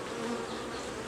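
Honeybees swarming over a hive frame during an inspection, a close, dense, steady buzzing drone, with no voice.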